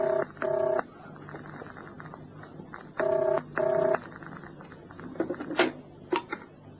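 Two pairs of phone dialing tones beep in quick succession, separated by a pause, followed by a few soft clicks and handling noises.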